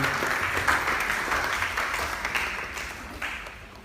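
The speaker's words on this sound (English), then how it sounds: "may we give another round of applause" Steady applause from a crowd at a voter education stakeholders' meeting in Bayelsa, Nigeria fills the room, a dense wash of clapping that gradually fades toward the end.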